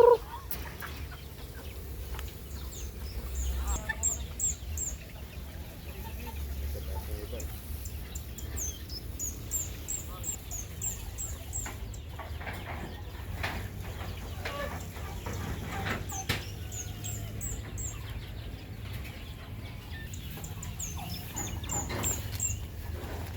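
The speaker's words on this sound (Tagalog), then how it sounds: "Ito naman yung mga manok." Farm chickens clucking and calling intermittently, scattered soft and sharper clucks at moderate distance over a low steady background rumble, with occasional faint voices.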